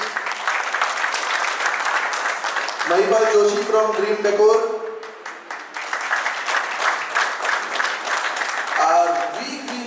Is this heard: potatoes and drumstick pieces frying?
no